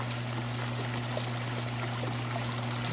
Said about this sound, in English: I can already see that I'm losing water pretty fast, having it run out the end.